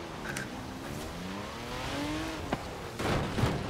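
A car engine in the Forza Horizon 4 racing game climbs steadily in pitch as it revs up, with a couple of sharp knocks and a rougher burst near the end, holding at moderate level throughout.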